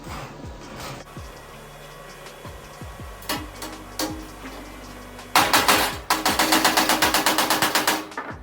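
Welding on a jeep and trailer produces scattered short crackling bursts, then a louder rapid run of evenly spaced sputtering pulses near the end.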